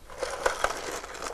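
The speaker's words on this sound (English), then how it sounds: "And you're going to pour ice," Ice is poured into a cocktail shaker for a margarita, a short, quiet burst of clinking, crunching cubes with a few sharper knocks.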